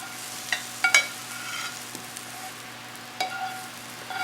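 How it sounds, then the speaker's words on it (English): Cooked shallots being scraped from a pan into a bowl, a few short, soft scrapes and clinks spaced over a few seconds against a quiet, faintly humming background. "Just scrape those into the bowl."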